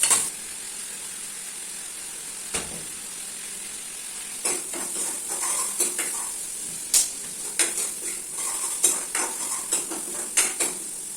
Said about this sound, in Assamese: এতিয়া মাংসটো দি দিলো ইয়াত মাংসটো দিয়া হৈ গ'ল ভালদৰে লৰাই দিছো